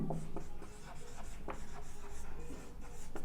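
A pen scratches across paper in short irregular strokes while a calculus equation is worked out by hand, close and dry, with brief pauses between marks.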